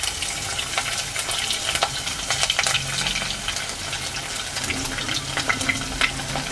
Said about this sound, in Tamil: பூண்டு போட்டுக்கலாம்.